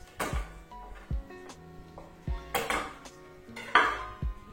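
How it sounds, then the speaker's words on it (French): Garlic cloves crushed on a kitchen surface while making lasagne bolognese: about six separate sharp knocks and clacks, each followed by a brief ringing of metal utensils, close and distinct, with no talk. "Les 3 gousses d'ail, on les écrase."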